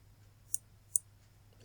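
Two crisp computer mouse clicks, evenly spaced about half a second apart, close and alone over a faint room hum, followed by a brief louder rustle at the end.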